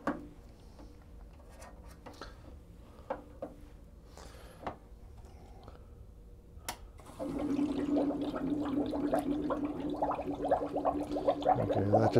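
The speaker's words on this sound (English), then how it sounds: "Let the water in." Quiet room with faint clicks, then water starts rushing in steadily, filling an ultrasonic record cleaner tank, a continuous gush that grows slightly louder.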